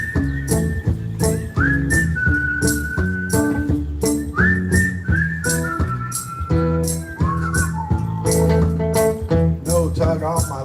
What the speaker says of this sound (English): Everybody whistle now